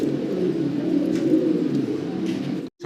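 Pigeons coo steadily and close at a pigeon farm, with a dense overlapping murmur of calls from many birds that runs unbroken before a sudden brief drop near the end.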